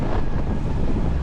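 Strong wind buffets the microphone throughout on a very windy hillside walk near Goose Eye, Sutton and Slippery Ford from Oakworth, a steady loud roaring rush with no talk.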